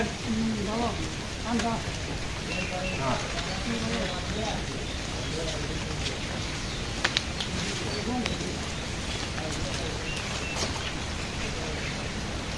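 Steady rain hisses throughout a village, with voices talking intermittently over the constant wash of falling water.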